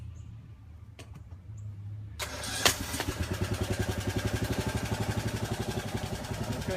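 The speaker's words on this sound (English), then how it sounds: "I'm going to crank this machine and see if we can jack this wall up." A small engine on a machine used to jack up a settling brick wall cranks and fires up after a quiet start with a few clicks, then settles into a loud, steady, rhythmic chugging run.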